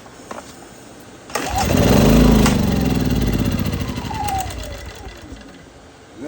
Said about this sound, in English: Let it stay on choke this time until it's still acting like it's gonna die out.